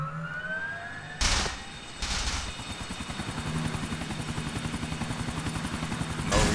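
A sheriff helicopter in the GTA IV LCPDFR police game: a steady, pulsing rotor thump throughout with a loud turbine whine, joined by short bursts of harsh noise and a faint siren-like tone at the start.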